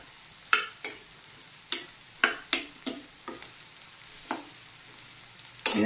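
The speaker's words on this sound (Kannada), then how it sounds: "ಅದಕ್ಕೆ ಇವಾಗಲೇ ಸ್ವಲ್ಪ ಡೀಪಾಗಿ ಫ್ರೈ ಮಾಡ್ಕೋಬೇಕು. ತರಕಾರಿ ಎಲ್ಲ ಬೇಯಬೇಕಲ್ವ. ಎಣ್ಣೆಲಿ ಫ್ರೈ ಆದರೆ ಸಾಕಾಗುತ್ತೆ" Chopped vegetables deep frying in oil for hotel-style vegetable rava upma, with a faint low sizzle broken by a dozen sharp, irregular scrapes and clacks of a spatula stirring the pan.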